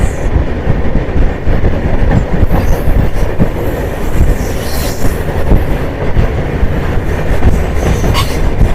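Passenger express train crossing a goods train, loud continuous rumbling roar with rhythmic wheel clatter and faint squeals, heard up close from on board throughout.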